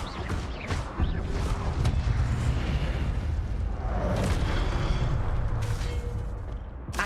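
An Incendio fire spell cast in Hogwarts Legacy, a fiery whooshing burst with booming impacts flaring a few times over continuous game ambience.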